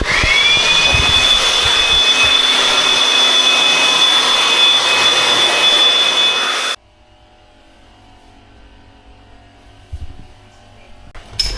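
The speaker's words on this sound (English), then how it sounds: "pressure washing all the parts." A pressure washer cleaning air conditioner parts on a balcony runs as a loud, steady, high-pitched whine and hiss, then cuts off abruptly, leaving a quiet background with faint knocks.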